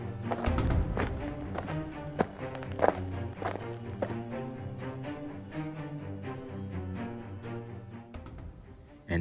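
Footsteps approach as a series of distinct, irregular thuds and taps over a sustained tonal musical drone, with a few heavier, louder steps standing out.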